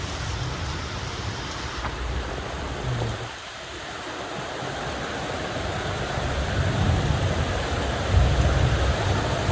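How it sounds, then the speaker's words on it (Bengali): Heavy rain pours steadily in a dense, loud hiss that swells slightly toward the end, with no voices. "কারণ অনেক জোরে আওয়াজ হচ্ছে বৃষ্টির"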